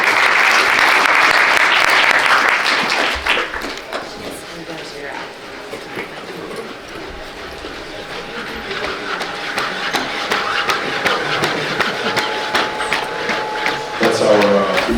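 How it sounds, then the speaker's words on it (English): Loud audience applause fills a conference hall for presenters, swelling at the start, easing to scattered clapping mid-way, then building again toward the end. "let's give a round of applause"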